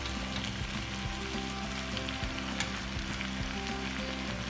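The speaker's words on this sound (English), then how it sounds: "Fried taters and onions." Small potatoes and onions fry in a pan with a continuous close sizzle and scattered crackling pops, alone without any voices.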